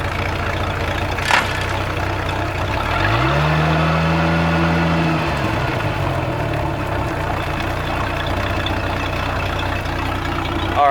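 A Chaparral boat engine with a gimbal noise problem idles and is shifted into gear, a steady low hum, close, with a brief rising-falling engine swell in the middle and a sharp knock near the start.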